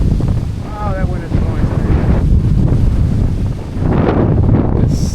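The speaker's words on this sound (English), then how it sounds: "It's so windy out here." Strong wind roars across the microphone at a mountain edge on a hiking trail, loud and continuous, with a voice briefly exclaiming over it.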